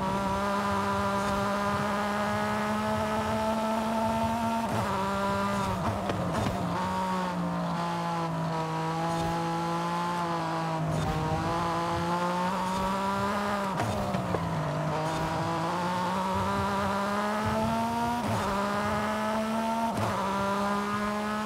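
A Porsche 911 GT3 R race car lapping in Forza Horizon 5, its engine a loud continuous high-pitched whine that rises and falls with repeated gear shifts and dips through corners, with no talk over it.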